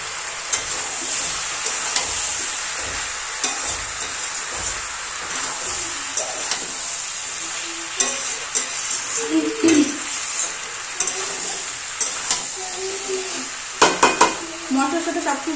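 Oil rendered from katla fish fries with spices in a pan, a constant close sizzle under repeated stirring scrapes and metallic clinks that grow more frequent toward the end.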